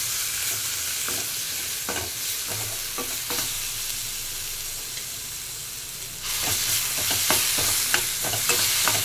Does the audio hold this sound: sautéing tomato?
yes